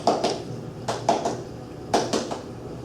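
A voice imitates an S3 heart gallop of congestive heart failure, repeating a three-beat rhythm in three clustered groups of short percussive syllables, close and clear with no other sound.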